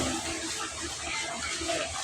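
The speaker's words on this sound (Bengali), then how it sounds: "গরম পানি দিয়ে দিলাম" Hot water being poured makes a steady, close rushing gurgle that lasts a couple of seconds without pause.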